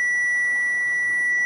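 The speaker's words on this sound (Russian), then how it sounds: "И вот она, видимо, еще все пищит." A truck's dashboard warning for an overheating gearbox sounds as a thin, steady electronic tone that holds unbroken from start to finish, fairly quiet against low cab rumble.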